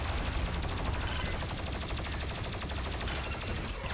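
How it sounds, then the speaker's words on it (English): Chaingun fire in Doom Eternal, shown as a dense, continuous rapid burst that stays loud and steady for the whole stretch under heavy game noise. "Chain gun"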